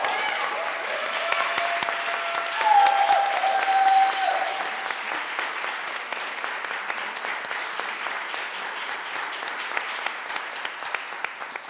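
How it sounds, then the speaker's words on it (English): Audience at a dance festival panel in Berlin clapping steadily for a sustained stretch, the applause swelling briefly near the start before settling into even, continuous clapping. "Let's give him a big applause."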